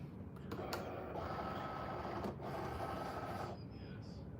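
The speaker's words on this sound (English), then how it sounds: "You're going to send it to the cutter, just like this." A Cricut cutting machine works through a design of three letters on a custom tee, giving a steady, fairly quiet mechanical whir with brief carriage shifts and pauses throughout.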